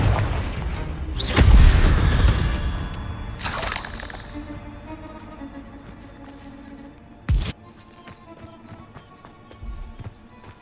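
Spell blasts from the Confringo blasting curse in Hogwarts Legacy, several loud bursts with a booming low impact and crackling debris, then a sharp late crack, spaced out over quieter game ambience.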